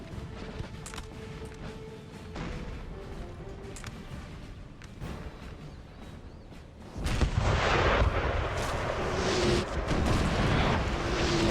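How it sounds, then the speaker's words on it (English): Prussian artillery booms in a Napoleon Total War battle at Heilsberg, with repeated cannon shots over a steady din of battlefield noise; the fire grows louder and denser in the second half, without talk. "Prussian artillery proving the saving factor here to this army."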